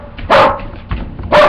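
A dog barks loudly and close in a beach-side home, two or three rough barks with a short gap between them.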